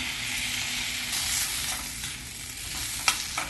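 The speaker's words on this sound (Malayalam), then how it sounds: "ഇനി ഇതിലേക്ക് 1 ടീസ്പൂൺ ചെറുനാരങ്ങ നീര് ചേർത്ത് ഇളക്കി കൊടുക്കാം." A spoon stirs potato sabzi with lemon juice in a pan, a steady close frying hiss with soft scraping strokes and one sharp clink near the end.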